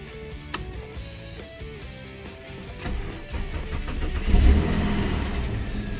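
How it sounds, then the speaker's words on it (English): An EF Ford Falcon engine running as the car is moved, a steady mid-range rumble that rises and swells toward the end, close and loud with no talk. "so I've just moved the car into the doorway of the shed here"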